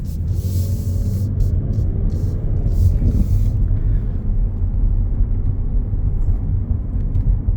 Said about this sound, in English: Barely put pressure on the gas, and it just wants to get up and go.